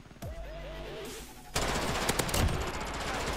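Automatic gunfire in a Call of Duty Warzone match set in Verdansk, a loud close burst of rapid shots after a brief quieter stretch, with no talking.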